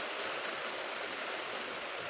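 Steady, even hiss of rain falling outdoors, with a strong wind, a soft broadband wash with no distinct drops, constant and fairly faint for two seconds.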